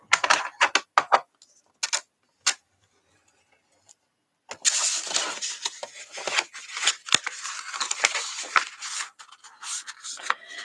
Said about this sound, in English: So I'm going to score each of these about 1/4 inch